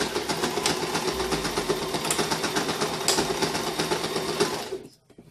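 A sewing machine runs steadily back and forth, back stitching across a lanyard strap, with a dense, continuous mechanical whir up close that cuts off abruptly near the end.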